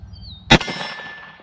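A rifle bullet strikes a steel silhouette target at a shooting range. It gives one sharp, loud metallic clang that rings and slowly fades, with no talking.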